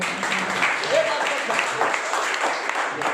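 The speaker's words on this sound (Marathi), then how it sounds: "याच्यासाठी टाळ्या वाजवा." An audience claps for a child called up during a talk: a steady, dense patter of hands lasting the whole stretch, with a speaking voice over it.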